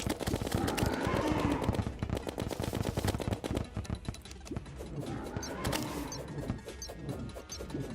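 The Minishark gun in Terraria fires during a Queen Bee fight in Expert Mode, giving a rapid, steady machine-gun rattle of many quick shots, loud at first and then a little quieter, with no talk over it.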